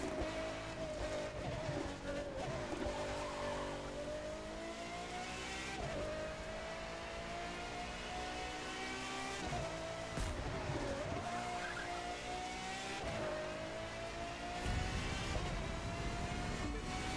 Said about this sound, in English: The car is sliding a lot more than it does when you have the assists off.